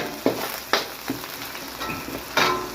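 Chopped onion and garlic sauté in a hot wok, giving a steady soft sizzle with several scraping stirs at irregular intervals, close up and moderately quiet, with no voices.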